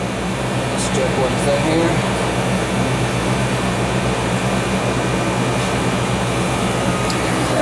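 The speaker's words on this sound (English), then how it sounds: "So we got both compressors running now." A 2012 ChillKing 7.5-ton dual-circuit chiller with both compressors running gives off a loud, steady mechanical hum and broad airy roar. It stays constant throughout, with someone speaking briefly over it.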